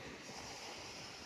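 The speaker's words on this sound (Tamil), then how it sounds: "பாரதி பாதம் பட்ட அந்த வங்காள விரிகுடா கரை ஓரம் நானும் நடப்பது எனக்கு ஒரு சிறப்பை தருகிறது." Sea waves wash onto the Bay of Bengal shore in a continuous broad rush with wind noise, steady and fairly loud, and no voices.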